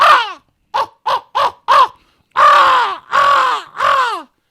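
A man imitates a crow call with his mouth for turkey hunting: a loud, close series of caws, four short clipped ones followed by three longer drawn-out calls, with no other sound.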